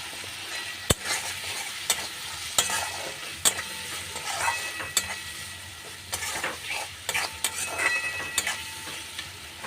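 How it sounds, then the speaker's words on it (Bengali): Chopped tomatoes with salt sizzling in a frying pan for a paneer curry, with a utensil scraping and stirring in irregular strokes and sharp clinks against the pan, close up and with no talking. "এটা ভালো করে নাড়াচাড়া করতে হবে যতক্ষণ না টমেটোটা সেদ্ধ হচ্ছে।"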